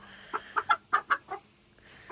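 A hen in a backyard coop gives a run of about six short, clear clucks close by, spaced irregularly over two seconds, with quiet gaps between and no talking.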